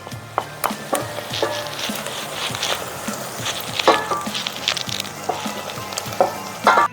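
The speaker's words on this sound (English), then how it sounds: "We're going to saute the shallots until they become translucent." Shallots sauteing in a pan with sage, rosemary and tarragon, a close, continuous sizzle broken by repeated scraping knocks of a wooden spoon stirring.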